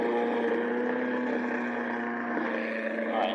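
An Ego Power Plus electric lawn mower labors through grass, its motor giving a loud, steady, strained hum with a constant tone and no pauses.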